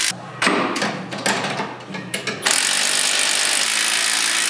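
A ratchet tightens the upper shock hardware on the driver's side of a Polaris RZR Pro XP during a rear limit strap install, giving close bursts of rapid clicking followed by a steady noisy wash.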